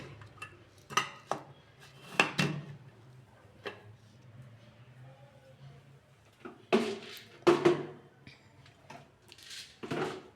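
A pressure cooker's metal lid clanks and clicks as it is closed and set down on a stove while a lentil sambar cooks, giving a scatter of sharp close knocks with quiet gaps between them.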